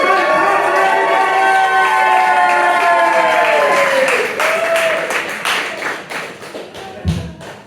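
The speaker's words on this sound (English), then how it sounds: "Let's start to stamp our feet. Let's start to clap our hands." A live audience claps and stamps its feet in a room ahead of a comedy set, with a dense, steady patter of hands and thuds under a loud, ringing music bed that fades out near the end.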